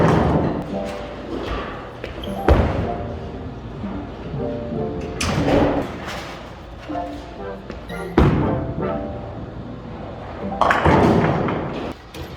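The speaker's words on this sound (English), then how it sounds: "I'm just going to release the ball normally how I would release it." A bowling ball thrown with a two-handed, seven-step approach drops with a heavy thud and rolls down the lane, a few hard impacts recurring among low rumbling, with faint background speech.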